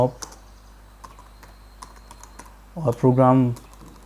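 Keystrokes on a computer keyboard while a Python program is typed into a script file, sparse clicks spread across the clip, followed near the end by a short burst of speech.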